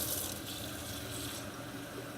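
Hot water runs steadily from a tap into a sink for bread-making, a continuous close splashing stream with no talk over it.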